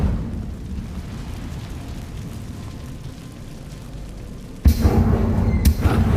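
A fire spell, Incendio, is cast in the video game Hogwarts Legacy, bursting in as a sudden loud whoosh and thump that roars on after a steady low rumble of background ambience.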